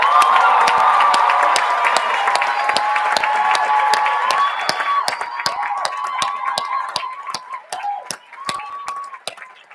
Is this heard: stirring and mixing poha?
no